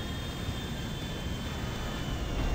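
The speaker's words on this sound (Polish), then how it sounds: "Znowu akurat startuje ten samolot." Airplane taking off in Grand Theft Auto V, a steady roaring jet engine rush, moderately faint and even across under three seconds, no speech.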